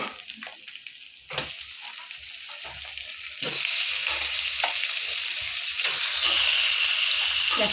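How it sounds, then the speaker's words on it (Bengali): Chicken added to fried onions in a pan over a wood-fired stove for chicken curry: a gentle sizzle with a few stirring knocks, then a sudden louder, sustained hiss of frying that keeps going to the end. "পেঁয়াজটা সুন্দর করে ভাজা হয়ে গেছে এবার চিকেনটা দিয়ে দেবো"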